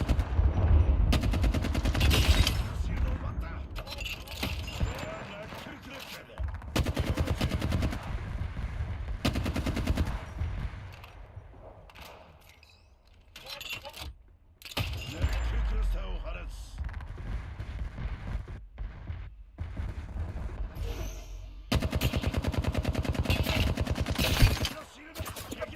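Rapid automatic gunfire from the video game Chernobylite comes in long, loud bursts with short pauses between them, and someone talks over parts of the shooting.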